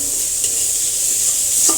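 Onions fry and soften in a pan with a constant bright sizzle, and a spoon stirs them briefly, close up and with no voices.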